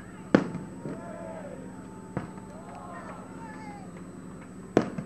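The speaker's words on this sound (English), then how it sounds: "We got fireworks on the beach tonight" Three sharp firework bangs burst at irregular intervals over Daytona Beach at night, booming across open air with crackling tails, over a low background of murmuring voices.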